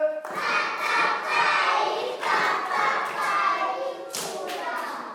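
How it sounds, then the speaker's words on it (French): A class of children applauding a classmate: dense, continuous clapping in waves over several seconds, with young voices and cheers mixed in the room. "Applaudissez pour elle."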